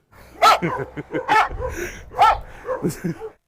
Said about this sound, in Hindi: वो अभी पट्टे पे है, इसलिए भौंक रहा है।